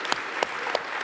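Four separate, sharp hand claps from an audience land about a third of a second apart, crisp and close, with no talking between them.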